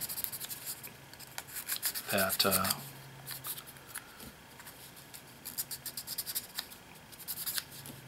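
Short scratchy strokes of a hand file work the nubs on a model wheel for a Damnation Alley Landmaster, a brief louder rasping burst followed by quieter intermittent scraping close by.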